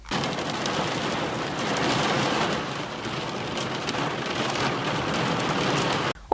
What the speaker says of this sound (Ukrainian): На заході України влупив дощ із градом.